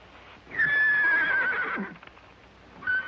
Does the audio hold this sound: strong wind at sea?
no